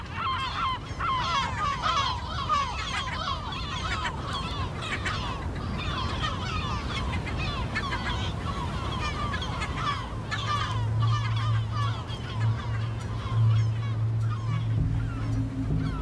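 Seagull colony calling nonstop, a dense chorus of overlapping honking, squawking cries that stays loud and steady throughout, with a low droning tone entering near the end.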